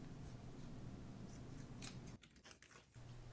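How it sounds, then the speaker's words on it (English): Scissors trim raffia in a small winter craft, giving a few quiet snips and crisp cutting sounds close by over a soft, steady room hum, with no talk. "Now I'm going to go and trim the raffia up just to make it look nice and neat."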